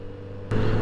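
A Kawasaki Z900 RS SE motorcycle engine hums steadily, then swells suddenly louder partway through the brief moment, heard close from the rider's seat on a morning ride.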